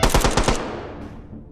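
Rapid automatic turret gunfire in the VR shooter H3VR, a short close burst of about six loud shots followed by a decaying echo tail.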